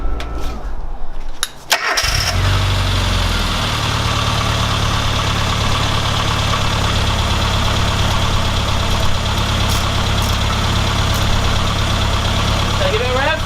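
A Classic Mini SPi engine cranks briefly, then catches and settles into a loud, steady idle that runs close by to the end.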